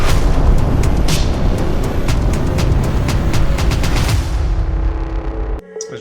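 An old, non-working personal computer blasted apart by a powerful explosive charge, giving a loud continuous roaring burst with crackling bangs that ends abruptly near the finish.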